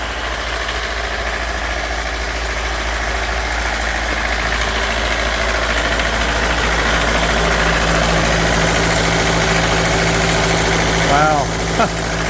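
An old engine idles steadily at an Amish sawmill, a continuous close low rumble with constant vibration, while people talk briefly near the end.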